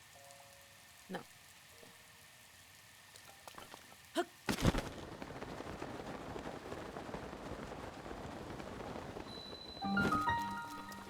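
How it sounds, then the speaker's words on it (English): Rain falls in Zelda: Breath of the Wild near Dueling Peaks. A steady hiss of downpour begins after a sharp burst and continues evenly, with brief speech heard before it. "So it is raining, which means it's harder for us to climb."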